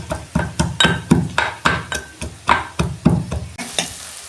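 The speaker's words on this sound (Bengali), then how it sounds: "এই যে রসুন আর গোলমরিচ আমি থেঁতো করে নিচ্ছি।" Garlic and black peppercorns pounded by hand, a run of about a dozen sharp, rhythmic thuds, close and loud.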